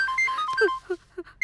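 A telephone rings in a scene from a Bhojpuri film, a repeating electronic ringtone in short bright bursts, moderately loud, with low voice-like murmurs in between.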